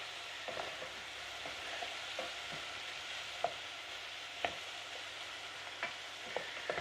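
Bacon frying in a pan gives a faint, steady sizzle, broken by soft scattered pops and clicks of spatter and stirring, with no voices.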